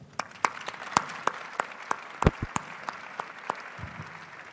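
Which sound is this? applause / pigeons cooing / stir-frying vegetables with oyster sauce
applause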